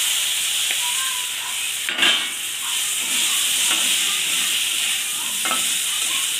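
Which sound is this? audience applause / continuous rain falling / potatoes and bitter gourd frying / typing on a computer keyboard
potatoes and bitter gourd frying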